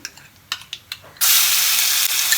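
Spices dropped into hot oil in a pan burst into a loud, steady sizzle after a few soft clinks, the hiss continuing strongly to the end.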